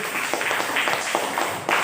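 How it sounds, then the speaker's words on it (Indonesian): A small group claps in brief, uneven bursts, nearby and fairly light, with no voices over it. "Tepuk tangan dong."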